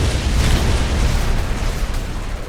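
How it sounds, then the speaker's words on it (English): Cannon shots fired at an enemy in the Space Gears video game, heard as a continuous loud, rumbling, booming barrage with dense low-end roar and no clear gaps, without any talk. "And here we'll use the cannon shot against the enemy."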